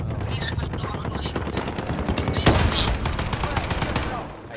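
Rapid automatic gunfire in Call of Duty: Modern Warfare, loud and close, with dense bursts running throughout and a sharp blast midway, under faint voices.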